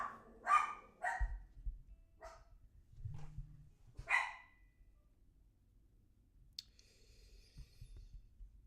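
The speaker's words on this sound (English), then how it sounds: "It feels like we're gonna have some barking today because it's just me and the dogs." Several dogs bark in short separate outbursts, five or six sharp barks spaced over a few seconds, fairly close, followed by quiet with small clicks and thumps.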